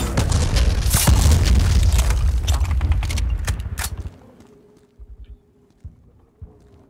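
Mine explosions in the shooter game Black, a dense stretch of loud, rapid booming blasts and debris that fades out, followed by a few scattered softer thuds.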